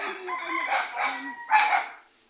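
Chickens clucking and a rooster-like crow, fairly close, with overlapping bird calls rising in the middle and then fading.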